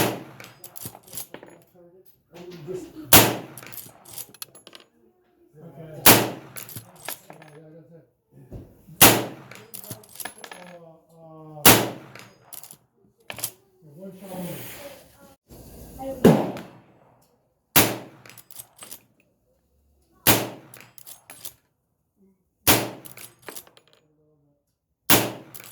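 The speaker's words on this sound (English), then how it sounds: "this is just me blasting at some steel at 100 yards" Rifle shots at steel targets 100 yards out on an outdoor range, .223 Remington loads: about ten sharp, loud cracks spaced a few seconds apart, each followed by a short ringing decay, with quiet talk between some shots.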